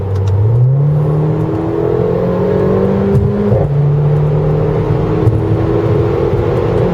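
A Mercedes A45 AMG accelerates hard, its engine note climbing steeply through one quick gear change and continuing to rise under a steady whir, loud and close, with no speech.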